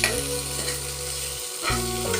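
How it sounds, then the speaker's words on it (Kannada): Spiced wheat-flour dish stirred in a frying pan, a steady close sizzle with scraping strokes, a brief pause near the end before the stirring resumes, with no voices. "ಇವನ್ನ ಚೆಂದಾಗಿ ಮಿಕ್ಸ್ ಮಾಡ್ಕೊಂಡು"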